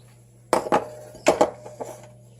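Ingredients such as sugar, brown sugar, powdered sugar and butter land in a mixing bowl with two pairs of close, clattering knocks a moment apart, then softer settling taps, over a steady low hum.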